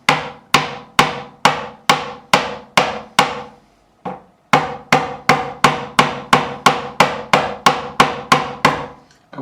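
Repeated sharp taps from the nylon end of a hammer on a vintage John Hornby Skewes Explorer guitar during setup, about eighteen evenly spaced, ringing strikes close up, with a brief pause midway and no talking.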